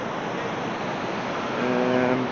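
Wind and water washing along the Ohio River shore at George Rogers Clark Park, a steady, close, broadband rush with a faint tonal hum near the end.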